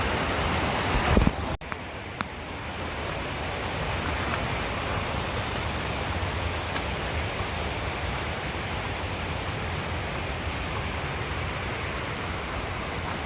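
A steady, loud broadband roar of rushing water from Sawatsada waterfall in Chiplun fills the whole clip after a brief knock near the start, with no voices.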